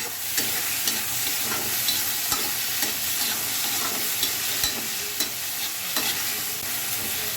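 Tomatoes frying in a pan with white chech bhaji, a Chhattisgarhi leafy greens dish: continuous loud sizzling with occasional sharp pops and stirring scrapes, close and steady, no voices.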